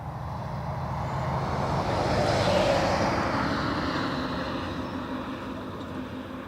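An ATR turboprop airliner from Glasgow at Dublin Airport gives a steady, broad engine roar and propeller drone that swells toward the middle and eases off slightly, continuous with no voices.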